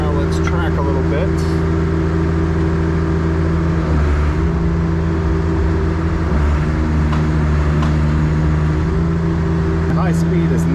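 An old tracked machine moving on its tracks, with a constant low engine drone and some clanking through the run, close and loud, while a person talks over it.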